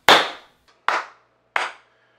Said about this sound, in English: A little clap test.